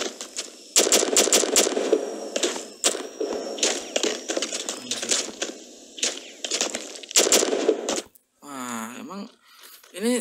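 Gunfire in the video game Warface: loud, close bursts of rapid automatic shots in quick succession with short pauses, followed by a brief mechanical reload-like sound near the end.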